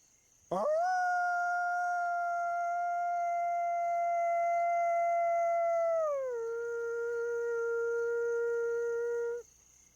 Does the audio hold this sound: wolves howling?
yes